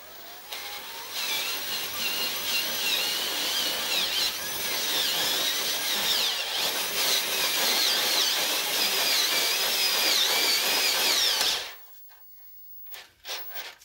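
A power drill with a step drill bit grinds through a Dana 60 steering knuckle, a loud, continuous whining bite for about eleven seconds before cutting off, followed by a few brief clanks.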